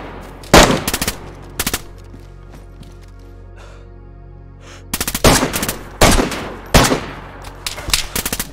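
M4 rifle gunfire in the survival video game DayZ: loud, close bursts of rapid automatic shots separated by quiet stretches, several clusters of cracks stacked toward the end.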